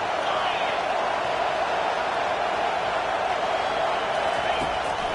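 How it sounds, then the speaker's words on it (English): Huskies football stadium crowd roaring loudly as the defense takes the field, a dense continuous wall of cheering that stays level under a commentator's voice. "It is getting loud as this crowd tries to help its defense."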